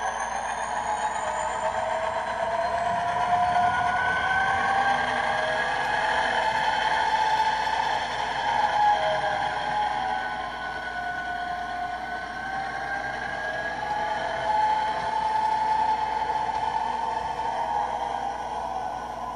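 A model SD70M locomotive running after its brake is released gives a steady, continuous electric whir and hum that holds an even level throughout, with no voices.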